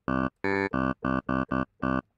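Seven short, growling NI Massive synth stabs with a throaty, belch-like buzz from a deep-throat oscillator, played in an uneven rhythm with brief silences between.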